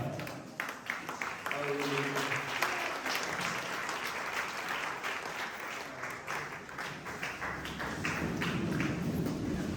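A church congregation claps their hands in a spread of quick, uneven claps that build into steady applause, with voices mixed in now and then.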